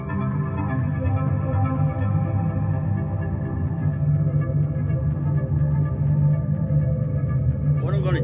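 A Korg Volca synthesizer plays a random arpeggiator pattern as steady, layered tones that hum on evenly throughout.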